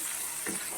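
Eggplant slices frying in a pan of hot oil give a steady, close sizzle that swells briefly midway through the short moment.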